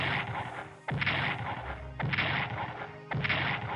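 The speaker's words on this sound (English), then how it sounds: "A lot of explosions going on out there." Explosions in the World War 1 strategy video game Strategic Command, landing as a rapid series of loud, sharp booming bursts, three heavy blasts in under four seconds over a constant rumbling battle din, with no talking.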